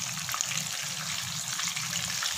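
Chicken cutlets, tikki, frying in a pan give a steady, close sizzle that crackles continuously without pause.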